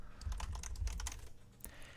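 Computer keyboard typing close by, a quick burst of irregular key clicks that thins out toward the end, with no voices.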